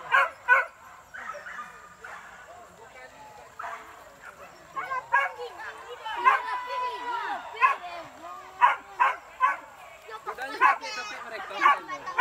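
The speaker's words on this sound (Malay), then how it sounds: "Anjing bingung tu." A dog barks and whimpers repeatedly during a hunt in Lintau Buo, sharp yips and whines in an uneven rhythm, fairly close, with people talking throughout.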